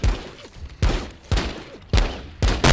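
Gunfire in the VR game The Walking Dead: Saints & Sinners, five heavy, close shots about half a second apart, each with a sharp onset and a short decaying tail.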